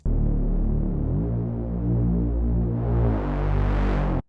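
A loud synthesized Reese bass with a sub oscillator switched on plays in Ableton Live 11, a thick buzzing drone with slow throbbing detune that steps to a new note partway, brightens near the end, then cuts off abruptly.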